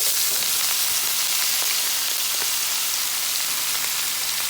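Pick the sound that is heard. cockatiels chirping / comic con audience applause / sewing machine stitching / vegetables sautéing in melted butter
vegetables sautéing in melted butter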